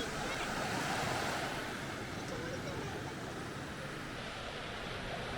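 Sea waves wash steadily onto a Konkan beach, a dense continuous roar of surf close by, with some wind buffeting the microphone.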